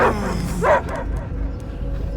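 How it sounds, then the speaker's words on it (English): Dogs barking in the Guardians of the Galaxy video game, a few loud close barks and yips in the opening second, followed by quieter background sound. "I hear only barking."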